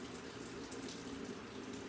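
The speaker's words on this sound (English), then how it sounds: "Now you can hear I already got the water going." Tap water runs steadily and faintly in the background, a soft continuous wash with no one speaking.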